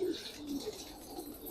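Pigeons of a bitter-bred breed coo in soft, low repeated calls close by, with a few faint chirps and steady background hiss between them.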